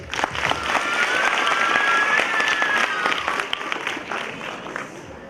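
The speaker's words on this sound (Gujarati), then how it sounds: "આપણે એકવાર જોરદાર તાળીઓથી વધાવી લઈએ" Loud, sustained applause from an annual day celebration audience after a dance performance, dense clapping that holds steady for several seconds before easing slightly, with a thin whistle-like tone above it.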